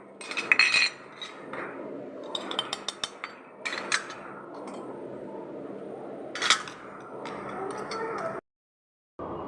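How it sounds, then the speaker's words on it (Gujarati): Fried strips of leftover roti tossed in a bowl, bright clinks and clatters of a spoon against the bowl in uneven bursts, close and fairly quiet, ending in a brief silence. "બાઉલમાં કાઢી લેશું, મિક્સ કરી લેશું"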